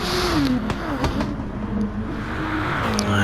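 GT3 race car engine in a racing video game at Bathurst, revving up under acceleration with a steady rising drone and gear-change dips, fairly loud and continuous.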